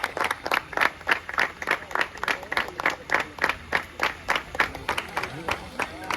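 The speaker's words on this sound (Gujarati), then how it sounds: "તાળીઓથી વધાવો ભાઈ." Scattered audience clapping welcomes a guest at a volleyball tournament in Mograwadi, Chhatariya, with uneven outdoor claps and crowd murmur beneath someone speaking loudly.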